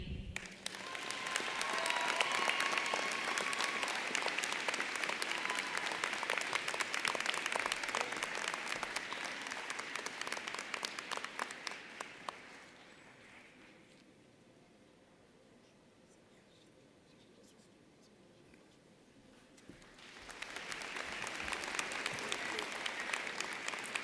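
Audience applause at a university public health commencement ceremony swells and holds for about twelve seconds, fades to a quiet hall with faint rustle, then rises again loudly near the end.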